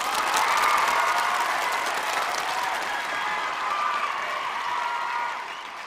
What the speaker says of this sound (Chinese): 咱们掌声欢迎随风上台